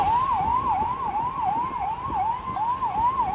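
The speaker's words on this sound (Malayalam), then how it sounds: "ആംബുലൻസ്" A wailing ambulance siren sweeps up and down in quick repeated cycles, loud and steady over low traffic rumble near Chennai Central railway station.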